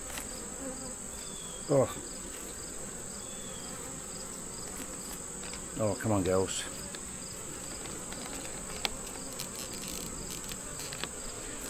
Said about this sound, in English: The bees are all under it.